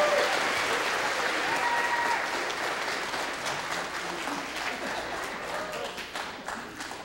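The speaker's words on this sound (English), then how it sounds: "So everybody give him a big round of applause." Crowd at the Aklavik Mad Trapper Rendezvous applauding an award recipient, a loud, steady wave of clapping that slowly fades, with a few voices calling out over it.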